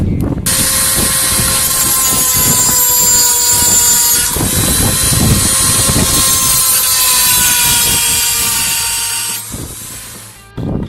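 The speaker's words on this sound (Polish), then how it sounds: "więc wezmę mini szlifierkę i spróbuję naciąć rowki na e, wkrętach" A small high-speed mini grinder whines steadily as it cuts slots into screws on a Chevrolet Captiva license plate light, its pitch wavering as it bites into metal, loud and close, then spins down near the end.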